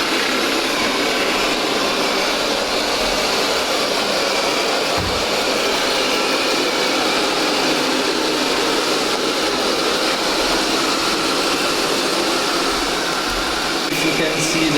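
Roborock S7 MaxV Ultra robot vacuum mopping a floor, a steady broadband whirring hum of motor and fan, close and continuous with little variation.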